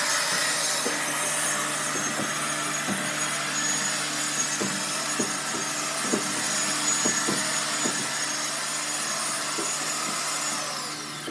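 A line hone cutting the main bores of a 1988 Ford 302 V8 block, a loud continuous grinding whir with faint periodic rhythmic pulses running throughout.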